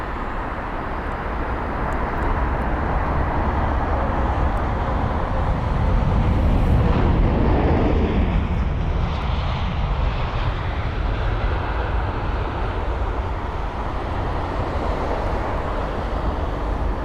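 A Boeing 777-200ER jet at London Heathrow produces a deep, continuous engine rumble and roar that stays loud throughout, with a brief surge around the middle, alone without talk.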